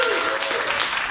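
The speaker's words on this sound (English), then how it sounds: "Please give her a round of applause" Audience applause fills a book launch, a dense, steady wash of many hands clapping at full strength with no voices standing out.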